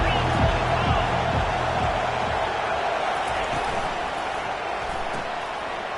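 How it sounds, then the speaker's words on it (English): A football stadium crowd roars in a steady, dense wash of cheering that swells at first and then holds, loud and far-reaching, with faint thuds low underneath. "This crowd rising up"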